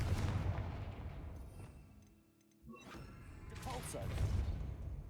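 A Confringo fire spell is cast in the Hogwarts Legacy video game, two heavy booming blasts with fiery whooshes, a brief lull between them, loud and close.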